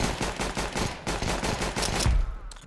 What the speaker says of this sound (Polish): Ciekawe strzały.